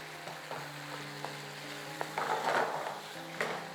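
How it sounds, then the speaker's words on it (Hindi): Masala sizzles in a pan with tomato and chicken for a desi chicken pasta, a steady close frying hiss broken by a few light stirring clicks and scrapes. "भुनाई कर रहे हैं जी, मसाला भी भुन रहा है, टमाटर और चिकन के अंदर"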